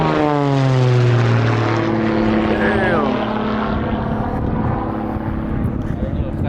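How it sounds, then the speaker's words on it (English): Propeller airplane engine droning loud and close at an airport fly-in in Sulphur Springs, Texas, a steady roar with a pitch that slowly falls as the plane passes, continuous throughout with faint voices underneath. "That's a nice plane right there."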